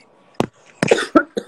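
Several sharp coughs from one person, in three or four separate bursts, close and fairly loud, with no talking around them.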